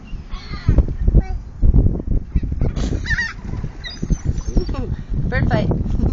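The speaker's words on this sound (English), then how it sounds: "Bird fight." Several birds squabble over food taken from a hand, with honking, squawking calls in short bursts close by, mixed with scuffling and a person talking throughout.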